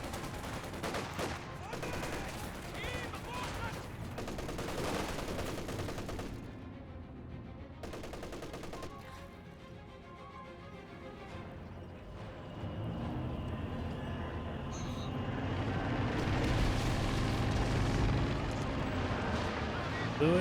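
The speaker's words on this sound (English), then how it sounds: "Incendiary barrage now being brought in." Incendiary artillery barrage in a Company of Heroes 2 match: rumbling impacts and bursts layered with scattered machine-gun fire, loud and sustained, swelling into a heavier roar toward the end while a voice talks over the battle.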